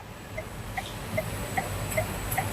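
A car's hazard lights tick softly and steadily at an even pace inside a Farizon F3E pickup, each pair of clicks evenly spaced, quiet and close against a faint background hum.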